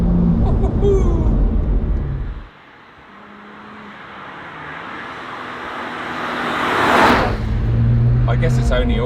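A BMW 1M being driven, its engine running with a steady rumble that builds as the car accelerates and a brief rising surge of revs near the end, heard from inside the car.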